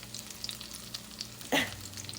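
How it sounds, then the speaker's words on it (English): Pinto bean patties sizzle faintly in a frying pan with a soft, steady crackle, and a brief louder scrape or stir cuts in near the end. "Okay, you can see they are starting to fry up really well."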